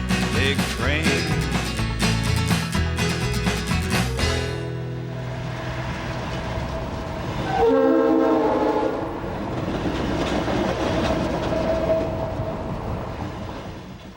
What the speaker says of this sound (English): Both freight and passenger trains pass through all day long.